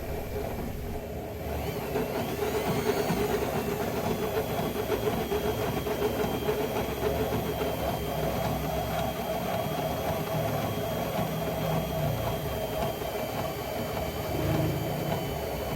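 A homemade wind turbine generator running under test, giving a steady, continuous whirring hum with hiss and faint tonal whine, unchanging and close throughout.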